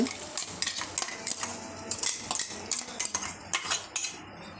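A spoon clinks and scrapes in a pan while tomato paste and ginger-garlic paste are stirred into a village-style paya curry, giving a steady series of close metallic taps and scrapes with no talking.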